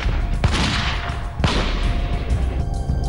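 Gunfire at a petrol pump, where nine rounds were fired from a bike within thirty seconds: two sharp, loud reports stand out over a noisy, crackling background with no voices.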